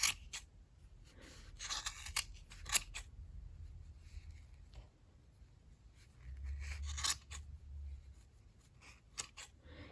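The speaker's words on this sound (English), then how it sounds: "take a pair of scissors and you're going to cut this across" Repeated crisp snips of scissors cutting through crocheted yarn loops, irregular clicks and rustles over a low background hum, fairly quiet and close.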